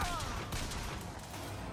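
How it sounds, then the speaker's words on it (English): Gunfire in the first-person shooter Bioshock Infinite crackles as dense, overlapping bursts of shots for nearly two seconds, loud and continuous under a busy game soundscape. "Who is someone shooting at me?"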